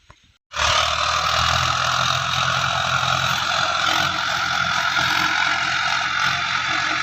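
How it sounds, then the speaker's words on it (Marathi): A loud tractor engine roars in suddenly after a moment of quiet and keeps running steadily and close as the tractor arrives. "ट्रॅक्टर आता येतो आहे"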